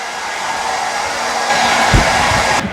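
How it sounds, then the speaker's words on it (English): Hair dryer blowing steadily while a dog is dried during a home dog bath, a continuous loud airy whir that rises slightly partway through and cuts off briefly near the end. "the hair dryer."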